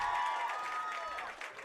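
Crowd clapping at a junior high football game, Strasburg vs. Limon, for an injured player, a steady wash of applause from the stands that softens slightly near the end.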